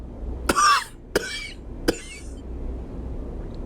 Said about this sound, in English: He coughs 3 times, hard like gunshots.